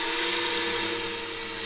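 Heavy drill boring through 1.5 metres of medieval stonework, a steady continuous grinding whine with strong tonal bands, close and loud throughout without pause.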